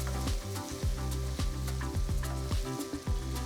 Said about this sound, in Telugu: ఒక వెడల్పాంటి ప్యాన్లో నేను 2 టేబుల్ స్పూన్ల నూనె వేస్తున్నాను. ఇందులో చిన్నగా తరిగిన ఒక పెద్ద ఉల్లిపాయ వేసి 1 నిమిషం పాటు వేయించాలి.